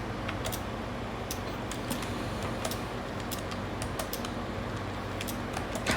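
Keys on a Braille display are pressed in chord combinations to navigate an Android device, producing a run of crisp, scattered plastic clicks and taps at close range over a steady background hum.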